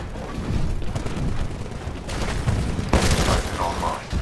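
Rapid automatic gunfire from a weapon in the video game Titanfall, sustained bursts with a sharper volley near the end, under a dense mix of game effects.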